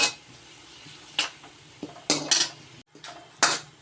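Garlic and ginger paste cooks in a pot as a metal spoon stirs and scrapes it, giving irregular clanks and scrapes over a faint sizzle, close by and with no talking.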